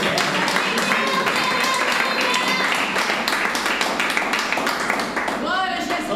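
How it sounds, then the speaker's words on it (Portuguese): Sustained applause from a church congregation during a bilingual Portuguese-Spanish sermon, dense steady clapping filling the room at an even loudness, with faint voices mixed in beneath it. "Palmas para Jesus"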